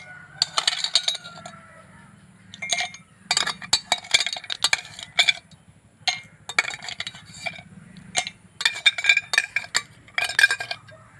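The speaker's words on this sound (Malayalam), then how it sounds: "നമുക്ക് രണ്ടൊന്ന് ഐസ് ക്യൂബ് ഇടാം." Ice cubes dropped into a glass for a cold drink: repeated bright clinks and clatters in irregular bursts, close and crisp, separated by short quiet gaps over a faint low hum.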